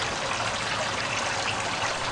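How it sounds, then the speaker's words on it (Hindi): Gutter water flows steadily as a continuous hissing, rushing stream in an outdoor drain, with even loudness throughout and no voices. "इस गटर का पानी इस तरफ जा रहा है"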